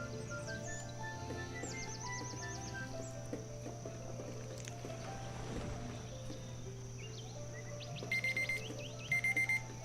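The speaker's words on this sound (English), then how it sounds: "Hear that? That's the 20-minute alarm." An in-game 20-minute alarm in the town-building game Banished goes off as two short bursts of rapid beeping near the end. Steady ambient game sounds and chirpy tones run underneath throughout.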